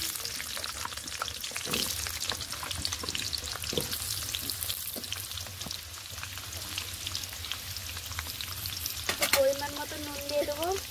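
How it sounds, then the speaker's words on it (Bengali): Potatoes frying in a pan give a steady close sizzle with scattered stirring clicks and scrapes, and a brief voice near the end. "তো এরপর হালকা করে আলুটা ভেজে নিতে হবে।"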